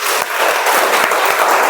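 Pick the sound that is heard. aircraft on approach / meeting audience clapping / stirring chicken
meeting audience clapping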